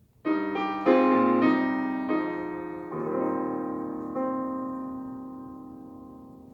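A sustained piano chord with an added thirteenth struck a few times in sequence, each attack ringing out and slowly decaying, with no voices.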